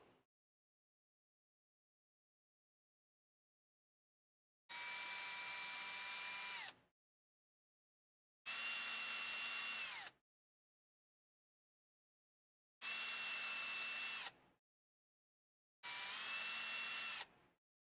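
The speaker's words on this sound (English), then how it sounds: "we drilled through those parts" A power drill bores through parts of a Unimog model kit in four separate bursts of about two seconds each, with silence between them, close and fairly loud with a steady high whine.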